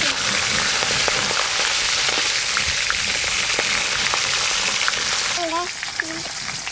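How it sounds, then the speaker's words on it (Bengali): Fish head sizzles loudly in hot oil, a steady dense crackle that holds throughout, with a few brief voices and a clink near the end. "মাছের মাথা ভেজে নেব।"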